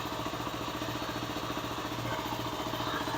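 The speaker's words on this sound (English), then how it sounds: "Idling a little low." A Kawasaki KLR 250 motorcycle engine idles steadily and a little low after a carburetor rebuild, a close, even mechanical putter with a regular firing rhythm holding for a few seconds.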